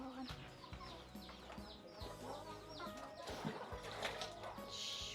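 Chickens cluck and call around a rural Lao village home, scattered short clucks and fowl calls at moderate distance over a busy outdoor background, with no one talking.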